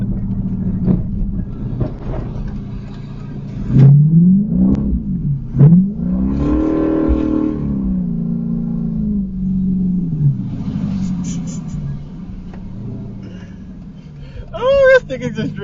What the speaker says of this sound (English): just drifted the Jeep